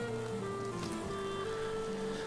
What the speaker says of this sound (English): It's been raining for a while now.